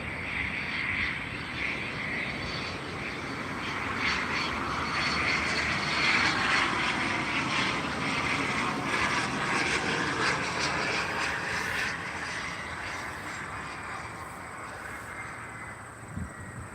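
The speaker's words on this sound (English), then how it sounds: "The Vision Jet coming in right now." An SF-50 Vision Jet arriving at Albany International Airport, heard as a steady, loud jet engine roar and whine that swells slightly and then eases off across the whole stretch, with no talking.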